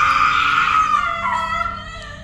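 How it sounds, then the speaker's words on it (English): The anguished scream of a Japanese ghost in a horror tale rings out as one long, loud, wavering wail that slowly falls in pitch and fades toward the end. "the scream."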